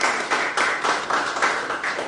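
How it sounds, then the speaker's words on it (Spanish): Church congregation clapping in applause for a woman's birthday during a Spanish-language service, a steady, fairly close patter of many hands lasting the whole moment without talk. "le damos un aplauso también, se lo merece."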